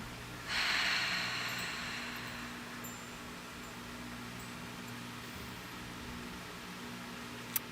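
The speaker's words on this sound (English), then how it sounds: "So just taking a breath in." A single deep inhale drawn in near the microphone, a soft airy rush lasting about a second before fading into a quiet steady room hum, with a small click at the very end.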